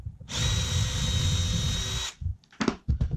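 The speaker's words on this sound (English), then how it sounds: "we're gonna go ahead and drill that the same way that we just did the base" A power drill bores through the center of a wooden column for a pinewood-derby-style award stand, a steady high whine lasting about two seconds, followed by a few short knocks and clunks of handling.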